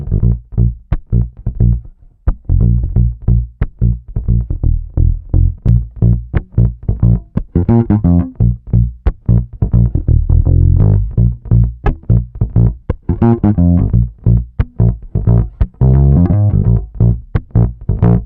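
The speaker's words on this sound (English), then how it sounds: "let's start on a P-bass with flats and a pedal set for a clean sound." A P-bass strung with flatwound strings plays through a Belgian CMC bass drive pedal on a clean setting. The notes are warm and full, picked in a steady, busy line with a continuous loud low end and no talking.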